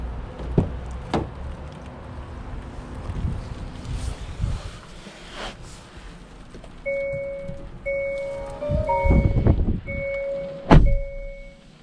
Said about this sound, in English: let's go ahead and take this 2022 Hyundai Tucson hybrid on the POV test drive